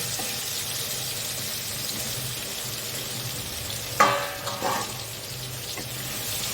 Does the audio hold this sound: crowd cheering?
no